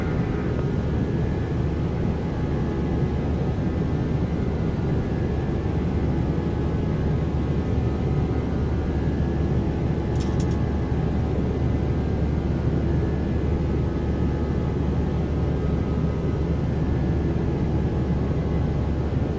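A Boeing 737-900 in X-Plane 12 departs runway 8 at Hilo, its engines giving a steady, loud, broadband roar that holds level throughout with no talk over it.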